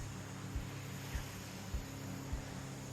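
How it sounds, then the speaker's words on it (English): A low motor drones steadily nearby on the Connecticut River at Selden Island, with regular soft thumps about every half second, like a motorboat engine running on the water. "some boat traffic"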